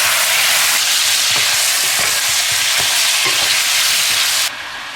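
Lamb bones tumble into caramelized sugar in a hot pot and set off a loud, dense sizzle that roars steadily, with a few stirring knocks, then drops abruptly quieter just before the end.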